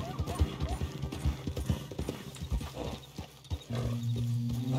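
Hooves of a zebra ridden like a horse in Red Dead Redemption 2 clip-clop in a quick, uneven rhythm close by, easing off before a low hum takes over near the end.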